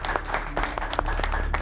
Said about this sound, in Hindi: तालियों के साथ इसका स्वागत होना चाहिए।